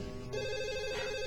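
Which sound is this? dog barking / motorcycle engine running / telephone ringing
telephone ringing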